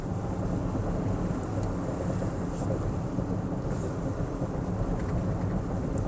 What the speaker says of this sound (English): I'm definitely hearing tires.